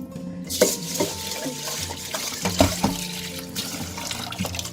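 Rice is washed by hand in water in a kitchen, with continuous sloshing and swirling, occasional clinks against the pot, and steady running water underneath, close and moderately loud without speech.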